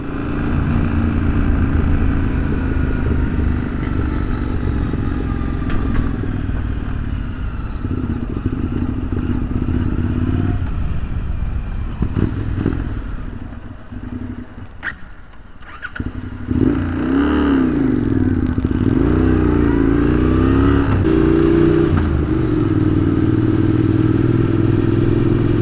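A motorcycle engine running on diesel fuel chugs and clatters loudly up close, a rough uneven idle that sags and nearly stalls midway, then catches and revs up again into a steadier run.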